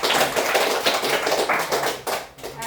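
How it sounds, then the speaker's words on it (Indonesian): Students in a classroom give a group a few seconds of steady applause, a dense and lively patter of many hands clapping together. "jadi kita berikan aplaus dulu untuk kelompok"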